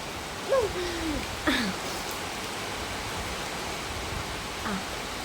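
Heavy rain pours in a dense, steady hiss that fills the whole stretch, with a few brief high chirps poking through near the start and once more toward the end.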